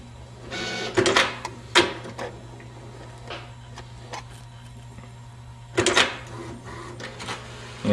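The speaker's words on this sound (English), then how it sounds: "it's going to come off the printer hopefully over here" A printer running off a document beside a Roland GX-24 vinyl cutter setup, giving a few short mechanical whirs and clunks over a steady low hum, close by with no talking.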